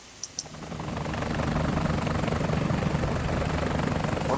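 Helicopters drawing closer, a steady rotor drone that swells from quiet to a loud, sustained roar with a low throbbing pulse, heard alone without speech.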